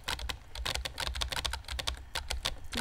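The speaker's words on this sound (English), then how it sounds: "Emily is typing." Keyboard typing sound effect from the video game Emily Is Away: quick bursts of crisp key clicks, close and fairly loud, with uneven rhythm and short gaps between keystrokes.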